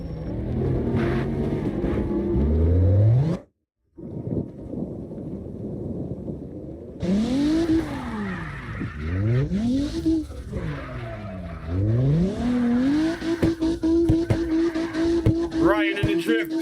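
Drifting car in CarX Drift Racing Online, its engine revving in sweeping rises and falls through repeated slides, ending in a long steady high drone, with a brief dropout early on and people talking over it.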